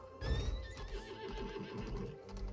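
A horse whinnies in the video game Lost Ark, a long, high, wavering neigh over soft hoof clip-clops and low game ambience, with no voices.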